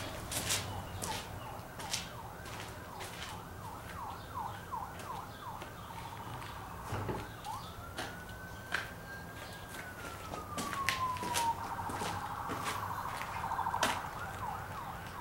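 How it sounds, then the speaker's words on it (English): Emergency vehicle sirens wail outdoors, fairly faint and distant, cycling through rapid yelps and then long rising and falling tones over a low background rumble. "There's sirens."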